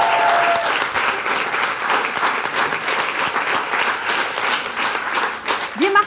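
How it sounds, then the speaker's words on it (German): An audience claps steadily for several seconds at a freestyle rap battle, a dense, lively round of applause that stays fairly even before fading slightly at the end. "Einen Applaus bitte für diese beiden."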